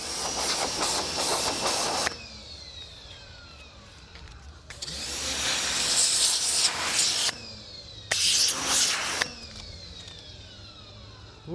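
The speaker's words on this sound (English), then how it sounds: "Let me give that a little rinse and we'll see how it's looking down there." Water spray hissing as a two-stroke Mercury 15hp outboard motor is rinsed, three long steady bursts separated by quieter gaps, close and fairly loud.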